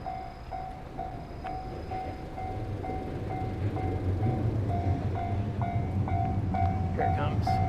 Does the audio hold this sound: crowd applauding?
no